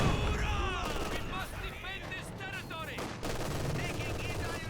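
A mortar half-track barrage in the video game Company of Heroes 2, with a dense stream of gunfire, shell bursts and booms, heard under continuous excited commentary.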